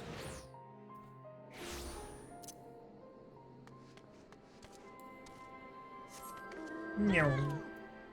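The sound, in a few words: cat meowing in a video game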